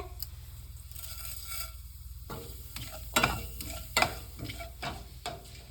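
Mustard seeds, chana dal and urad dal dropped into hot oil, a soft steady sizzle with several sharp stirring scrapes and pops near the end, no talking.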